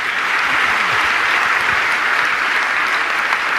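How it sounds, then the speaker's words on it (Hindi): A large gathering at a religious discourse claps loudly and continuously, a thick, even roar of applause with no pauses across the whole stretch. "एक बार जोरदार ताली बजा दें"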